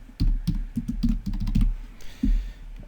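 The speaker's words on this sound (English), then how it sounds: "Type in our name." Keys clatter on a computer keyboard as a name is typed, a quick close burst of about eight uneven clicks, a short pause, then one final keystroke.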